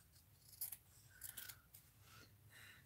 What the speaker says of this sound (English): Let's just snip off a piece.